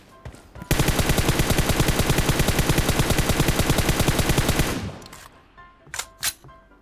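In PUBG Mobile, rapid automatic gunfire at targets rattles out as one loud, fast, evenly spaced burst lasting about four seconds. It stops abruptly, and a couple of sharp single shots follow.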